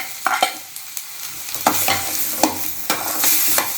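Garlic, large-cut onion and tomato sautéing in a pan for a crab gravy, with a spatula scraping and tapping in uneven strokes over a soft sizzle, close by and no talking.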